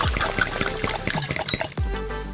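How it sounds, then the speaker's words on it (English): Heavy cream being poured into melted green candy, a steady liquid pour with soft splashy trickling that runs throughout, close and fairly loud, with a couple of dull thumps. "Then add some heavy cream."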